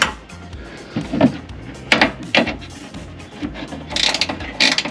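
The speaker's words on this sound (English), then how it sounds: "I got a 10mm boxed in wrench that ratchets" A 10mm ratcheting box wrench turning a headlight bolt, close, loud and uneven bursts of ratchet clicks with short pauses between strokes.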